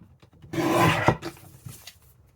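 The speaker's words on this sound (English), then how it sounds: "I'm using the trimmer whilst this is still wet." A paper trimmer slices through wet, layered paper in a single quiet rasping stroke, close by and alone, with faint handling noise afterward.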